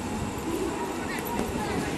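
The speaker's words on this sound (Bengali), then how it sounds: "ট্রেন ঢুকছে মাঝদা স্টেশনে" Continuous rumble and rattle of a train rolling slowly into Majhdia station at night, heard from inside or close by, with faint murmuring voices beneath the noise.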